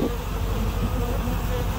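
Dense, close buzzing of a swarm of honey bees nesting in a two-year-old planter box in Pasadena, California, a continuous loud drone with no break.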